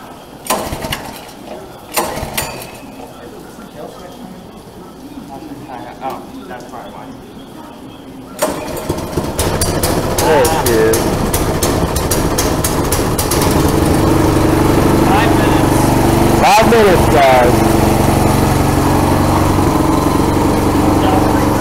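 Small go-kart engine is pull-started: rattling recoil pulls and mechanical clatter, then the engine catches and runs steadily and loudly for the rest, with people talking over it.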